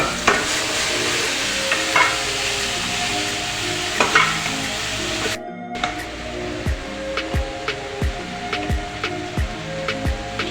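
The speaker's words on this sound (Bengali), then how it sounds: "এখন ঢেঁড়সগুলি মিক্স করা হইব ভালো করে" Okra bhaji sizzles steadily while frying in a pan, with a brief cut midway and then a run of rhythmic, close-up scraping stirs over the continuous hiss.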